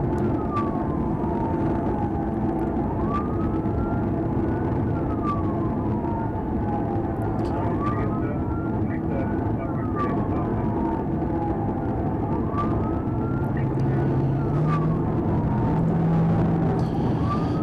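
Wailing police car sirens rise and fall in repeated slow sweeps over a loud, constant roar of road and engine noise during a high-speed chase, with no talking.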